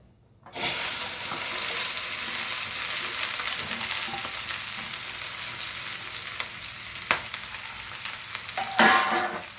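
Okra (bhindi) drops into hot oil seasoned with hing and bursts into a loud, steady close-up sizzle that continues throughout, with a few clinks of stirring near the end.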